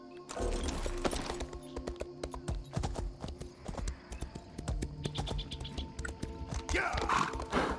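Horse hooves clip-clop in The Elder Scrolls Online, a quick, steady trot of hoof strikes with game sounds mixed around them. A faint whinny comes through near the end.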